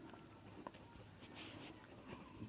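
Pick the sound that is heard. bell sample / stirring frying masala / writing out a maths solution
writing out a maths solution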